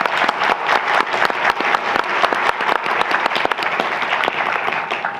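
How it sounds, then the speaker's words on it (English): Dense applause from a seated audience at a Parsons New School for Design book event, steady and close with sharp individual claps throughout, no voices over it. "Let's start by giving them a round of applause for joining us today."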